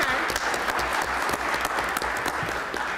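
An audience at a Women's History Month celebration in Milwaukee City Hall claps, a loud, steady patter of many hands filling the room throughout.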